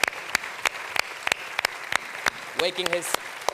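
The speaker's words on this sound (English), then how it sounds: "Round of applause for Mr. Philip." Audience applause at the Scotiabank CONCACAF Champions League 2018 official draw, a sparse crowd clapping in sharp individual claps, with a voice briefly talking near the end.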